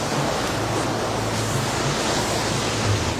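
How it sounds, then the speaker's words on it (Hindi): Fast-flowing glacial white water from the snow-covered Andes rushes in a loud, constant roar, close and filling the scene without a break. "तेज बहाव वाला ये नदी का पानी सीधे बर्फ से ढकी एंडीज की चोटियों से आ रहा है।"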